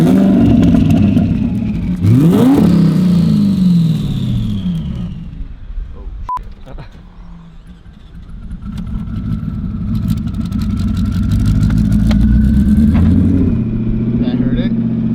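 Big turbo Lamborghini Huracan engine on methanol idling and revving, loud and rumbling with a rising and falling pitch and turbo whine, while people talk over it.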